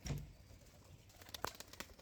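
Pigeons leave a loft one by one, with soft cooing, faint wing flutters and a sharp flap or clap near the middle over a quiet, low background.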